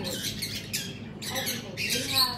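A green parrot imitates a human laugh in short bursts of raspy squawking, several choppy pulses spread across a couple of seconds, close by with faint background murmur.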